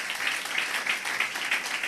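A congregation at a Christmas church gathering applauds in a steady, moderately loud wash of clapping that holds evenly throughout without a break.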